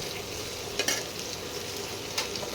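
Onion and tomato fry with chicken in a pan for a spicy chicken curry, making a steady close sizzle, with a couple of brief stirring scrapes rising above it.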